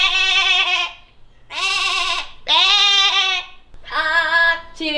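A pet parrot imitates a sheep, giving four or five loud, close, wavering bleats separated by brief pauses.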